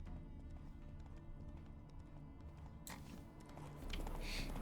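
A horse gallops in The Witcher 3 video game, its faint hooves beating in a quick steady rhythm before a brief louder burst of noise near the end.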